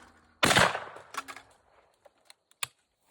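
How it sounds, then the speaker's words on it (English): A Browning Citori CXT shotgun with a full choke fires once at a clay target at close range outdoors, giving one loud, sharp blast followed by a few faint clicks and ticks, with no talking. "I am shooting a full choke for the entire video"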